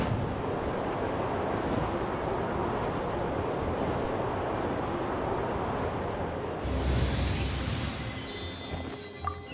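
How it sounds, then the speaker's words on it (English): A rushing, airy wind current in Genshin Impact blows steadily for several seconds, then a brighter, louder gust-like swell with a chiming shimmer takes over. "Let's ride this wind current, shall we?"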